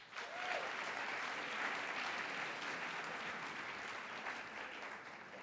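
A live Hollywood audience claps in a steady, dense round of applause that stays even for several seconds, heard from a moderate distance with a roomy wash.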